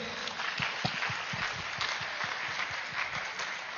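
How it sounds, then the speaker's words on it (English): An audience at a meditation summit in India applauds the LED team, a steady wash of many hands clapping heard from a distance, fairly soft and even throughout. "Can we clap for them please?"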